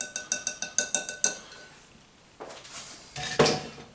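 Stirring a beef jerky marinade in a container: a quick run of about nine rhythmic clinks of a utensil against the vessel, then a pause and a few louder scraping knocks, close and without talk.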